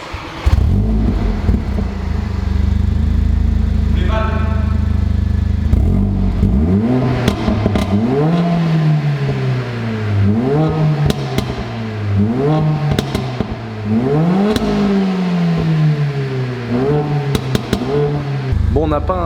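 A Mercedes-AMG A45 with an aftermarket exhaust and engine remap revs repeatedly, rising and falling in pitch over a steady idling rumble, close and loud with a rough exhaust note.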